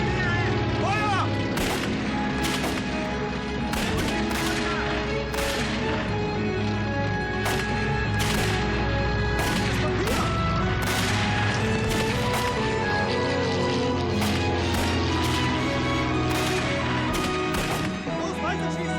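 Gunfire and explosions in a war drama, dense repeated shots and blasts over a loud soundtrack, with shouting voices mixed in throughout.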